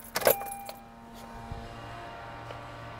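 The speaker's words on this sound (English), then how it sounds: "we go ahead and turn ignition off" Keys jangle sharply for a moment as the ignition key in a Honda car is turned, followed by a quiet, steady electrical hum from the vehicle.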